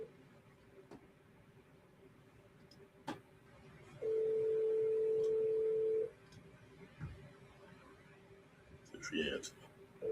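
Telephone keypad dialing tones: a couple of faint short beeps, then one steady two-second tone, over a quiet background with a few clicks and brief rustling near the end.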